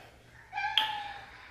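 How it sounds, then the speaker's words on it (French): A cat lets out a single soft, drawn-out meow nearby in a quiet indoor room during a makeup routine, faint and alone with no talking. "Le chat qui s'y met."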